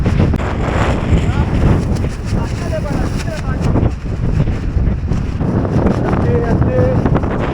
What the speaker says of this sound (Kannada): ಗಾಳಿ ತುಂಬ ಇದೆ, ಗಾಳಿ ಮಳೆ.